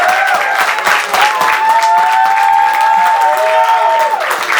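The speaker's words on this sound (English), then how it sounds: "Can we give one more round of applause for my boy Lino one more time?" A comedy club audience applauds in a dense, loud wash of clapping and crowd noise, with a held sung or shouted tone riding over the top.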